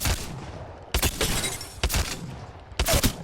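EVA-8 semi-automatic shotgun firing in Apex Legends, four loud, separate blasts spaced roughly a second apart, each with a sharp crack and a short decaying tail.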